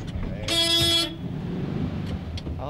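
A single car horn blares for about half a second over a low traffic rumble, loud and close, then the engine noise continues.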